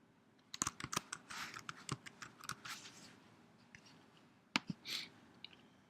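Quick bursts of keystrokes on a computer keyboard as a project name is typed, with uneven clicking rhythm, a couple of louder isolated taps, and no talking.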